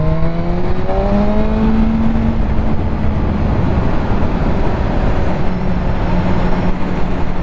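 A BMW M1000R motorcycle is ridden at speed, its engine droning loud and continuous with rising and falling pitch through gear changes, all under heavy wind rush.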